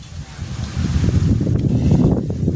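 Wind blowing outdoors, buffeting the microphone in a loud, low rumbling roar that swells and holds steady across the whole stretch.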